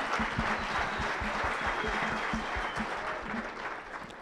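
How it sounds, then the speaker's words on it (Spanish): Audience applause welcoming comedian Gustavo "Puky" Sorondo on stage, a dense, steady wash of clapping from a large crowd that fills the whole stretch and tapers slightly at the end. "Recibamos con un gran aplauso a Gustavo Solondo"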